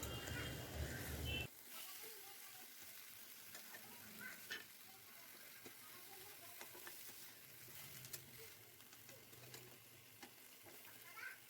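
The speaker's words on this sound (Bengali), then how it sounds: "যতক্ষণ না কাঁচা গন্ধ যাচ্ছে ততক্ষণ ভাজবো।" Onions and katla fish fry in mustard oil in a kadai. After a brief louder burst at the start, a faint, soft sizzle carries on steadily with occasional light stirring clicks.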